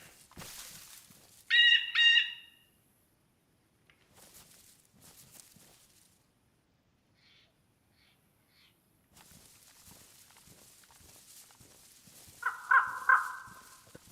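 A crow in the video game DayZ gives two loud, harsh caw bursts, one near the start and one near the end, separated by quiet stretches with soft footsteps and faint rustling.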